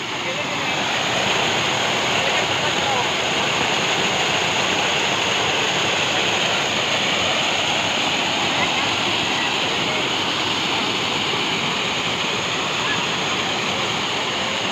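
Mountain spring waterfall near Islamabad, fed by rainwater gathered in the hills, roars in a loud, steady broadband rush that continues unbroken throughout, close by and drowning out everything else.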